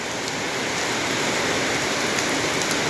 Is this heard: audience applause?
no